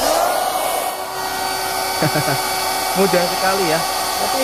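An electric air pump inflates a car air mattress with a loud, steady whirring drone that runs throughout. A person speaks briefly over it.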